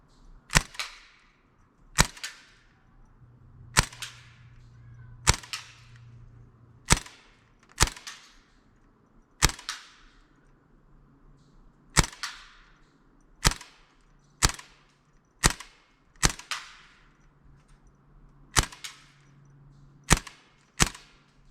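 A Crosman R1 air rifle fires about fourteen sharp, loud shots at beer cans, each crack followed by a brief ring, evenly spaced roughly every second and a half with no talking.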